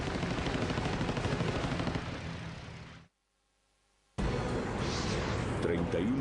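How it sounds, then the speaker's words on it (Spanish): Rapid machine gun fire from a WWII bomber's rear gun turret over Guadalcanal, a dense loud rattling burst with a brief silent gap before the chatter resumes. "DeBlanc metió gases y ganó terreno, pero una brillante sucesión de trazadoras dirigidas directamente hacia él surgió de una de las ametralladoras traseras de los Pitt."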